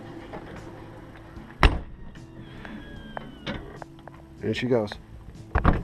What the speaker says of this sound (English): It has an automatic step down here that will retract with opening and closing of the door